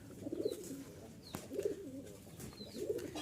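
Rajshahi Giribaz pigeons coo softly, three low rolling coos at an even pace, with faint chirps and a small tap between them in a quiet setting.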